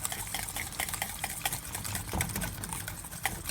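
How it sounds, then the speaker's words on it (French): A small mixture for homemade lasagne is stirred with quick, scraping, uneven strokes close by in a kitchen, with no talk. "Et on mélange la petite mixture"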